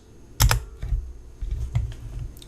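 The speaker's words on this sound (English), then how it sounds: "I'm going to type malware or malicious." Keystrokes on a computer keyboard while typing a search query, a quick burst of loud clicks followed by scattered, softer taps over a quiet background, with no talking.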